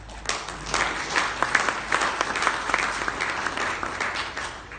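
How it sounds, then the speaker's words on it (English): An audience at a business presentation breaks into sustained applause, close and fairly loud. Individual claps are audible within the dense wash, and no voices break through. "I hope that's not applause for me"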